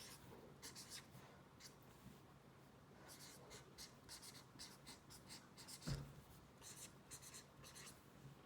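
Writing out an algebra lesson by hand, a close, quiet run of short scratchy strokes in irregular bursts with brief pauses and one louder tap, no talking.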